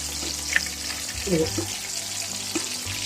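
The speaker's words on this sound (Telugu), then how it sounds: "కొంచెం నూనెలో కాలినాక అటు ఇటు దింపుకుంటూ కాల్చుకోవాలి మెల్లగా" Chicken vadas frying gently in a shallow layer of hot oil, a steady soft sizzle with faint stirring clinks as the fritters are turned, close and continuous throughout.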